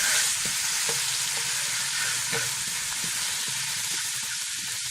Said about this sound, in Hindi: बस हमने इसको हल्का सा ही फ्राई करना है